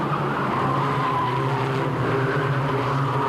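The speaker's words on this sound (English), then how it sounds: "a pack of 13 cars contesting the same bit of track up to Druids" A pack of about thirteen Formula Ford race cars from a 1991 semi-final at Brands Hatch roars continuously as they contest the track toward Druids, with a dense, sustained engine drone and layered whine and no gaps.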